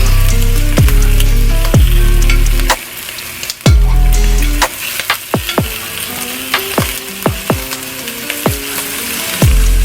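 Slices of summer sausage fry in a hot pan with a loud, steady sizzle, while sharp knocks and scrapes mark the pieces being flipped with a utensil; no one speaks.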